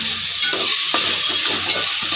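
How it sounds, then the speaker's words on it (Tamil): Tomatoes sautéing in a pan with rock salt for fish kulambu, a strong steady sizzle and hiss with occasional soft stirring scrapes, no speech. "இது கொஞ்சம் நல்லா வதங்கட்டும் தக்காளி"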